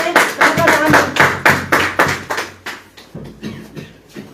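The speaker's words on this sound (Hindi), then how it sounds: "जोर से ताली बजाएंगे" Loud congregation clapping at a Christian worship service, with rhythmic claps in steady bursts that thin out toward the end, and voices faintly under them.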